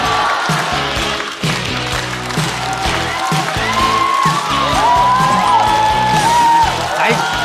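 Audience clapping and scattered cheers welcoming a newcomer comedian at a Chinese stand-up comedy show, mixed with music and a host's voice over it.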